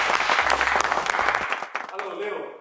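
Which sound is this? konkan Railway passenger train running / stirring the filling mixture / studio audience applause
studio audience applause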